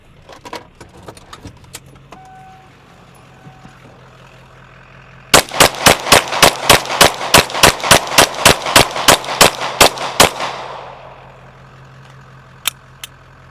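Machine gun fire in a truck combat video game: a rapid burst of about twenty evenly spaced loud shots lasting several seconds, followed by a few isolated shots, over a low engine hum.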